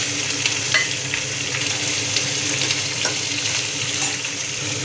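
Onions sizzle and fry in an oiled pan for Indian onion chutney, a steady, close crackling hiss with occasional stirring clinks and no talking.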